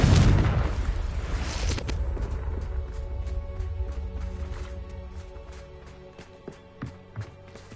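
A Confringo blast spell in Hogwarts Legacy erupts in a loud, close boom at the start, then rumbles and crackles away over several seconds, ending in a few faint scattered thuds.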